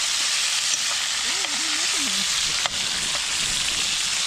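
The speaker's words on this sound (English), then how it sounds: "A little bacon and eggs." Bacon and eggs frying in a pan over a camp stove for breakfast at an outdoor campsite, a steady close sizzle throughout with a few faint clinks and a brief low murmur of voice.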